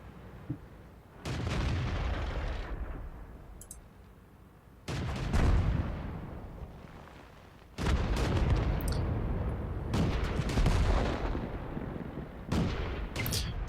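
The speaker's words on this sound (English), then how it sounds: "Given the size of the explosions that seem to happen when this thing hits" Heavy booming blasts and artillery-like gunfire from World of Tanks, arriving in loud bursts every few seconds with rumbling decay between them.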